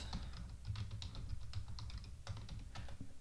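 Fast, close clicking of keys on a computer keyboard as a password is entered, a quick uneven run of taps with no talking.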